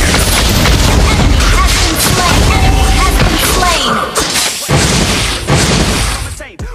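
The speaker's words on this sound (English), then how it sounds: "Our turret has been destroyed." Turret being destroyed in Mobile Legends, dense booms and shattering bursts over busy game effects, loud and layered, tapering into a few final crashes near the end.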